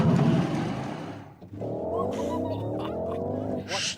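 A Porsche Cayenne Electric Turbo accelerates hard from 50 to 100 km/h, its drive giving off a smooth, rising electric whine over a muffled roar of road and wind noise.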